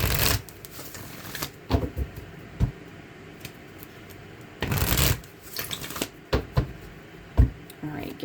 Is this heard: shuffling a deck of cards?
yes